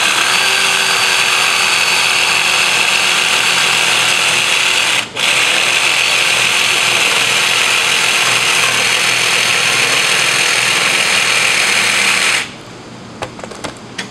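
A steady loud power-tool whine runs as the outer metal ring of a homemade gem sieve is cut while clamped in a vise, with one brief break midway before the tool stops near the end.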